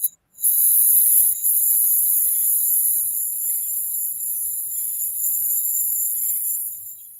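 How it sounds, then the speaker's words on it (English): Crickets chirp in a steady high-pitched trill on a played recording, continuous and fairly loud throughout with no talking, over a faint low background murmur. "Is that crickets? It's crickets."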